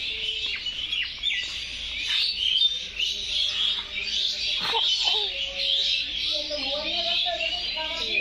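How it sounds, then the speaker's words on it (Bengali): Birds chirp and call steadily among garden trees with mango and litchi, a dense bright twittering throughout, and one louder whistled call near the end. "পাখির ডাকগুলা কিন্তু অন্যরকম লাগতেছে।"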